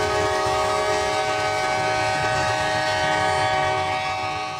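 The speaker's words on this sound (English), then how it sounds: "4 locomotives leading Q453 at Baldwin" Four freight locomotives, two GE and two EMD, pass close by at Baldwin, their harmonic horn sounding loud and steady over rumbling engines and wheel noise.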